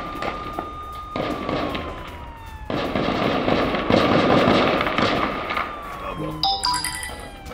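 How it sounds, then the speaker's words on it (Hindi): Rapid gunfire crackles in bursts during a clash in the West Bank, heard at a distance through a dense wash of noise, with a rising and falling siren-like tone and some sharper cracks near the end. "तड़तड़ाती हुई गोलियों की आवाज आप सुन सकते हैं"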